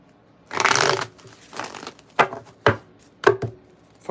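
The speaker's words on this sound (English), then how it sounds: "Give me one more shuffle." Several bursts of tarot cards being riffled and tapped together, a longer shuffle followed by short sharp snaps, close and clear.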